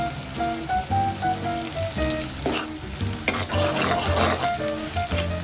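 Crushed garlic sizzles and fries in a pan for street-style Mumbai pav bhaji, a steady crackling hiss with stirring scrapes, and a bright steady tone runs alongside it.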